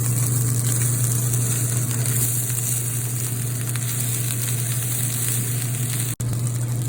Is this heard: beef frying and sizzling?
yes